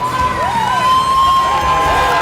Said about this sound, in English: And the crowd going wild for Brian Nicholas.